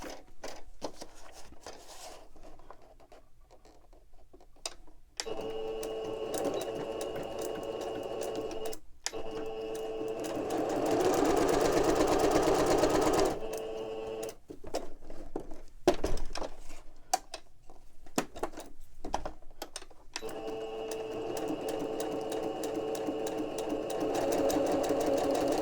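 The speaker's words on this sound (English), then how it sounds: "now I will stitch along here and along here" Sewing machine stitching along paper ephemera, a steady mechanical whir with short bursts and pauses, louder in the middle stretch, with quiet handling noises between runs.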